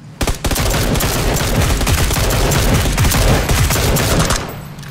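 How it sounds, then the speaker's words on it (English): Automatic gunfire erupts in PUBG (PlayerUnknown's Battlegrounds), a loud, dense burst of rapid shots lasting about four seconds before cutting off sharply, with no voices over it. "we had gunfire at 105"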